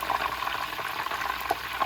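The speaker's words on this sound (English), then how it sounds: "So I'm going to continue frying these ones up" Tacos dorados filled with meat and cheese fry in hot oil, a close, steady crackling sizzle with small pops and no speech.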